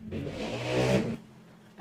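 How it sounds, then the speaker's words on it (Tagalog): A motorcycle passes by on a street in the early morning, its engine rising loudly for about a second and then fading as it goes, with a brief voice at the very end. "May dumaang motor."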